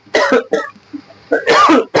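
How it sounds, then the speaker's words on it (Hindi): Several harsh coughs in quick succession, close and loud, separated by short pauses of quiet. "मम्मी सब्जी बना रही, खांसी आ रहा है हम लोग को।"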